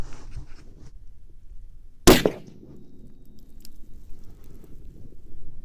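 A single sharp, loud rifle report from a T/C Compass .308 firing a 168gr A-Max load with 44 grains of powder, cutting through quiet outdoor wind noise and fading quickly.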